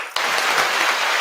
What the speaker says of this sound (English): Let's clap it up for Ali the Greatest.